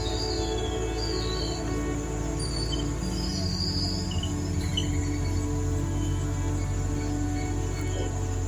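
Male mole crickets sing at sunset, a loud continuous buzzing trill that holds steady for several seconds, with faint bird chirps in the background.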